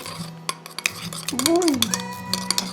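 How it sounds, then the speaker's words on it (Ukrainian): Stirring of a homemade slime mix of shower gel and flour in a bowl: repeated clinks and scrapes of a utensil against the container, with a brief voiced sound and light background noise. "Так, тепер перемішуємо."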